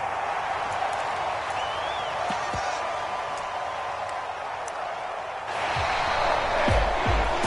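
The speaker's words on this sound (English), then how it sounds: "And the home crowd applauding. They're happy with what they've seen." Home crowd in a Madden 24 football game applauding and cheering as the game ends, a steady broad wash of stadium noise that swells louder near the end with a few sharp thumps.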